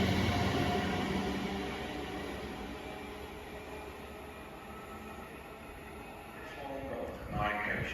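An Avanti West Coast Avera train on a test run from Edge Hill depot to London Euston rumbles past close by. It is loud at first and eases to a steady roar, with wheel squeal and clatter near the end.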